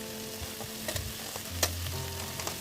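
Crabs frying and being stir-sautéed in a pan, a steady sizzle broken by scraping stirs and occasional pops and clinks, close and continuous, with no voices.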